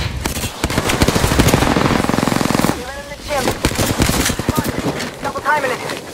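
Rapid machine gun fire from a shooter video game rattles in sustained loud bursts, close and dense, with voices calling out over the shooting.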